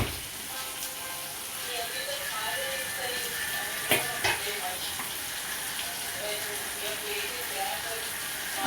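Cauliflower and peas sizzle steadily in a pan as homemade masala is stirred through, with a continuous close frying hiss and occasional scraping clinks of the spoon.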